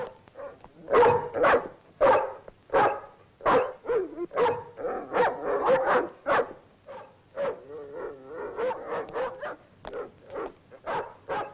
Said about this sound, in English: Why is he barking?